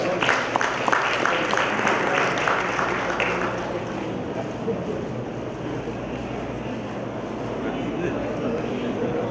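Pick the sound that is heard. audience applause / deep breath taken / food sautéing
audience applause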